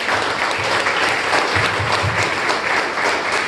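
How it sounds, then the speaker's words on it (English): Toastmasters meeting audience applauding a speaker, steady dense clapping from a roomful of people, loud and sustained throughout with no speech. "Let's give a big round of applause."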